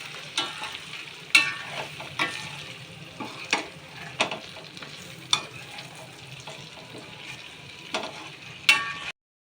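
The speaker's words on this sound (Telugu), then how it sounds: "వేసుకొని మంచిగా కలుపుకోవాలి." Stuffed eggplant curry with spice powder being stirred in a pan, a soft sizzle underneath evenly spaced sharp scrapes and taps of a ladle against the metal, close and clear, without talk.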